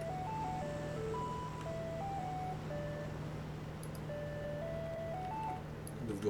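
Ice cream truck style jingle plays from a food truck being driven in the video game PUBG, a tinkling melody of single notes over a steady low engine hum.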